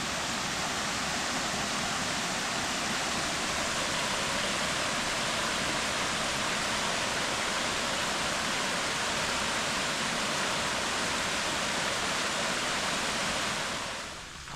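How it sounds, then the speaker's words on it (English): A waterfall and small running stream along a cycling trail pour steadily as a loud, even rush of water that holds for the whole stretch before easing slightly at the end. "Really cool, nice little running stream through here."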